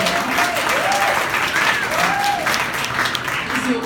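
Steady, loud applause from an audience at a working women event fills the whole stretch, with crowd noise and a few faint voices underneath.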